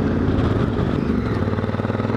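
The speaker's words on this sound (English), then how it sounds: "I've been riding around the interior of Lake Mungo." A Honda Africa Twin motorcycle rides through the dry lakebed at Lake Mungo in the Australian Outback, its engine a steady, rough drone close by with light mechanical clatter and no voices over it.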